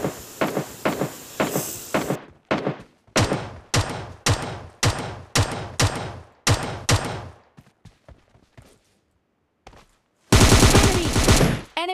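Gunfire in PUBG Lite during a duo match: rapid bursts of shots crack out in a steady rhythm, then trail off into scattered quieter shots and a short silence before a dense, loud burst of automatic fire closes it.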